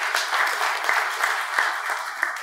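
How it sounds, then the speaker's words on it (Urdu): Audience applause at a public event in Pakistan, a dense, continuous roar of many hands clapping with a few sharper claps standing out. "تو میں چاہوں گا کہ دونوں بھائیوں کے لیے پرزور تالیاں ہونی چاہیے۔"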